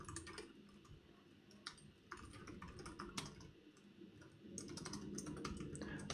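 Steady typing on a computer keyboard while entering a line of code for a clock test fix, with close, continuous key clicks and brief pauses, getting denser toward the end.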